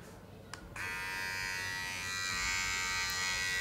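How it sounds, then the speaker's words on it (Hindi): A Mi Beard Trimmer 1C with self-sharpening blades switches on after a couple of faint clicks and then runs as a steady, even electric buzz, close and moderately quiet. "नॉइज भी उतना ज़्यादा नहीं है। नॉर्मली जो मार्केट में ट्रिमर मिलते हैं सेम नॉइज़ है।"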